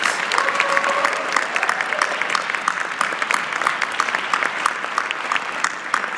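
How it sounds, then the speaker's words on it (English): A room full of people at a chapter forum opening gives a big round of applause for Kimberly Lewis, with dense, lively clapping holding steady throughout, loud and close, with no speech over it. "So I just want to give our Kimberly Lewis a huge round of applause."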